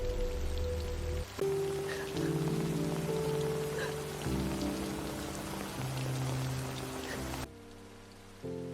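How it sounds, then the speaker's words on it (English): Steady rain falling on a street in Paris in 1906, a continuous wash of patter and drops under a low tonal drone that cuts out briefly and shifts toward the end. "A rainy street in Paris."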